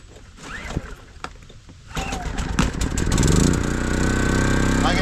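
A WEN 3600 generator engine cranks with a few sputters on choke, then catches and roars up to a loud, steady run close by.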